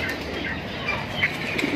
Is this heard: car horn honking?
no